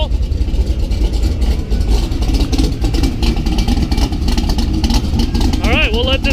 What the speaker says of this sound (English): running about 800-900 RPMs on idle